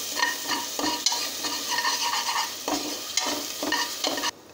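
Green chilli paste sautés in a hot pan with a steady crackling sizzle, broken by repeated scraping stirs of a spoon, up close and without talk, cutting off abruptly at the end.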